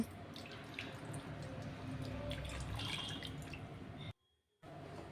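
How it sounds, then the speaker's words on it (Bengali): Water pours steadily over small cow figurines being bathed in a home shrine, a continuous close splashing and trickling that breaks off briefly near the end before resuming. "এবার গোপুসোনার প্রিয় গোমাতাদের আমি এবার স্নান করিয়ে দেব"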